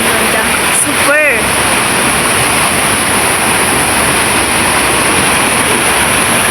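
Rushing river water in a rural provincial setting, a steady broadband wash that stays loud and close throughout, with a brief voice and a whistle-like chirp near the start.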